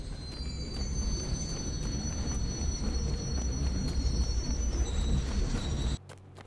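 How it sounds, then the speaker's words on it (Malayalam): A train in the video game Indian Bike rumbles past with a continuous clattering roar and faint high whine, then cuts off abruptly near the end. "ട്രെയിൻ വരുന്നുണ്ട്"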